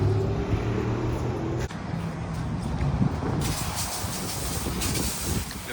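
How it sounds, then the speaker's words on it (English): Tire cleaner sprayed onto truck tires at a car wash, a loud steady pressurized hiss that continues throughout with a brief dip partway, no voices. "Start with the tire cleaner."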